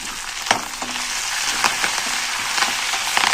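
Crushed garlic and curry leaves fry in hot oil with a steady, close, bright sizzle, with faint crackles and the odd soft knock of a utensil.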